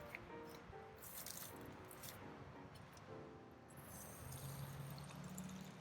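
Water poured over germinating seeds in a homemade sprout chamber trickles and drips down into the bottom chamber, a steady soft wet rushing with faint splashes throughout.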